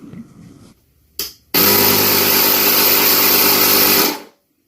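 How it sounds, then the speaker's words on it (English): An air pump inflates the inner tube of an 8.5-inch Xiaomi M365 scooter tire: a short burst, a brief pause, then a loud, steady mechanical whir for about three seconds that stops abruptly, heard up close with no talking. "it would be a good idea to inflate it a bit and make sure that nothing's leaking"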